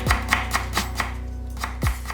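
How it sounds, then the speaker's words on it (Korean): Knife chopping a quarter of a carrot, cut into thin even slices and then julienned into strips on a cutting board, with about a dozen quick, steady chops that ring close and clear. "당근 4분의 1개는 얇게 편썰어서 같은 두께로 채 썰었다"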